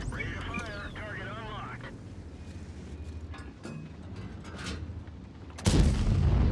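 A tank cannon fires in World of Tanks, a single loud, sudden boom near the end with a heavy low rumble after a stretch of engine drone, battlefield noise and a voice.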